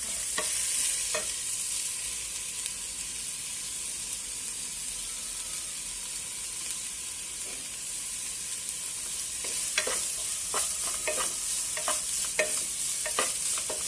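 Onion sautéing in a pan, for a noodle and cheese snack, sizzles steadily at close range while a utensil stirs, with a burst of sharp scraping taps toward the end.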